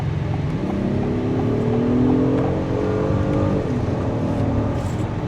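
An Acura MDX Type S family three-row SUV accelerates under throttle, its engine note rising steadily in pitch and then easing off, heard from inside the cabin over a constant road rumble.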